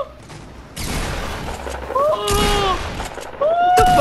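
Bursts of gunfire ring out in a shooter video game, loud and clustered into several rapid volleys with sharp high whines between them, while voices talk throughout.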